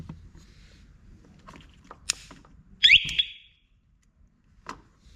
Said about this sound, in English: I turned it on and the alarm went off.